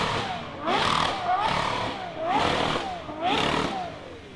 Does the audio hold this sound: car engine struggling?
yes